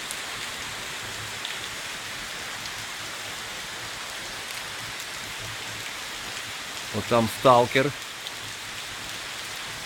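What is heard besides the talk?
rain falling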